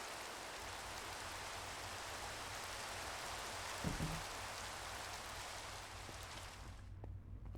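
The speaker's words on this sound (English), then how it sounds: "Rain, rain, go the fuck away." Steady rain falls in the video game Minecraft, a dense, even hiss that runs unbroken for several seconds and then cuts out abruptly near the end, with no voices over it.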